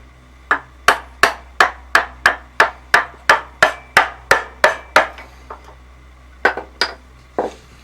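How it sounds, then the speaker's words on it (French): Wood chisel struck repeatedly with sharp, evenly spaced blows to free a block of wood between two saw cuts, about thirteen close hits followed by a few scattered ones. "un coup de ciseau bien placé"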